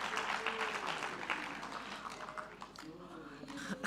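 Audience at a sector skills conference applauding for a woman's birthday, a steady wash of many hands clapping at moderate distance with murmured voices and cheering mixed in throughout.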